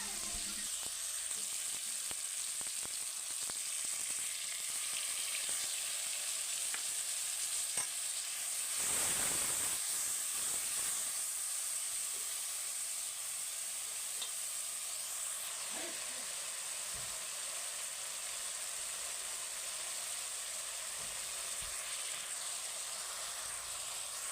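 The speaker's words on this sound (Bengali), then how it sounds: "দিয়ে আমি ভালো করে মশলাটাকে কষিয়ে নেব এখন একটু নুন দিয়ে আমি টমেটোটাকে ভালো করে নরম করে নিচ্ছি" Spice paste and tomato with a little salt sautéing in a pan for a ridge gourd and potato curry. A steady, close sizzling hiss runs throughout, broken by occasional stirring scrapes and a brief louder burst partway through.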